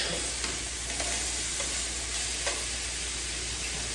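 Pork chops fry in a pan with a constant, bright sizzle and soft crackling pops, close and fairly loud, with no talking.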